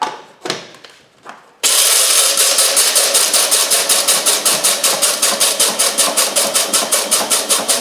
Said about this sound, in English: Put them in a little spice grinder.